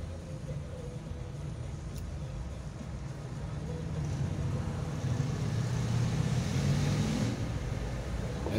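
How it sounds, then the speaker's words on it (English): Busy city traffic at intersections in Bucharest, a steady broadband roar of passing cars that swells slightly louder in the second half, continuous and moderately distant. "Now you're about to see the hectic traffic."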